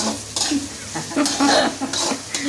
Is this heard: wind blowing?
no